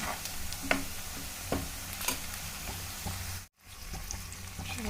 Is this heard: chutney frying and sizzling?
yes